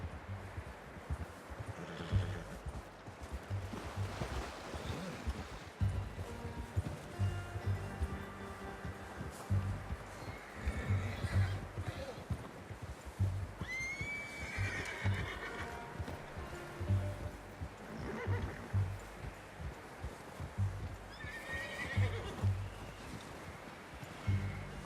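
Horses in Red Dead Redemption 2 give several sharp whinnies amid quiet clip-clopping hooves at a camp, with a low rumbling background and faint rhythmic thuds.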